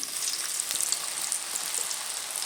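Sliced tapioca chips crackle and sizzle steadily in hot peanut oil, a dense, continuous frying hiss close by with no talking.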